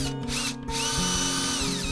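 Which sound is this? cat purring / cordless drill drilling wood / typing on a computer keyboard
cordless drill drilling wood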